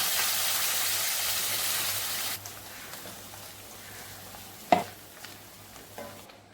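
Tomato puree hits melted butter in a pan while cooking restaurant-style butter chicken, first a loud hissing sizzle, then a quieter steady fry, then one sharp clatter of a utensil.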